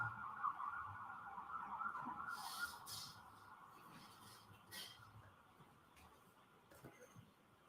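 Emergency vehicle sirens pass outside a courtroom, a faint wailing tone heard through the walls under quiet room murmur and occasional thumps, fading as they move away.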